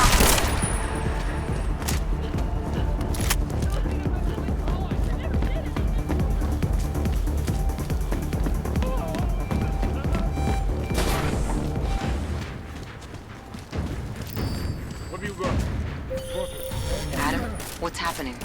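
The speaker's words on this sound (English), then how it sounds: "I'm getting reports of gunfire in Apex Center." Gunfire and explosions from the Deus Ex: Mankind Divided video game, a dense, loud and continuous barrage of shots and booms with sharp bursts throughout, easing somewhat near the end.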